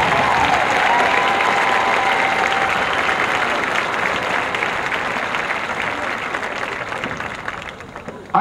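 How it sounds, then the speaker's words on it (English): Sustained audience applause fills a school pep rally as a marching band exits, a dense crowd clapping steadily before tapering slightly near the end. "Let's give the band one more round of applause as they exit"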